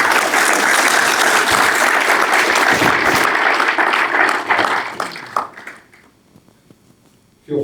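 An audience at a conference applauds its panelists: loud, dense clapping that holds steady for about five seconds, then thins out and fades to near silence before a brief final sound.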